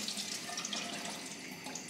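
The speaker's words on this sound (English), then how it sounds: "Look, I'll just throw the water first." Water is poured out of an opened can while making pozole, a steady close splashing stream that runs without a break for two seconds with no talk.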